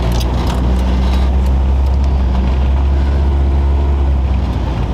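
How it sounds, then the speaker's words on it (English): A car engine idles steadily with a constant low rumble close by, a continuous drone that holds for the whole stretch with no pauses. "Well, there you go, car's running."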